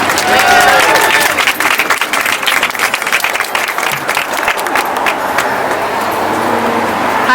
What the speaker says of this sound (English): Let's give her and the Boston Medical Center team another round of applause